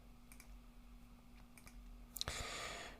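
Mouse clicks while working in ArcGIS Pro desktop software, a few faint soft clicks spaced over steady hum, then a sharper double click followed by a louder burst of broadband noise.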